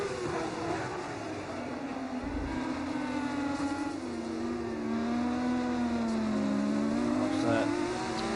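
Two F2 race cars screaming side by side through the final chicane at the Canada circuit, engines rising and falling in pitch as they brake and accelerate, loud and sustained.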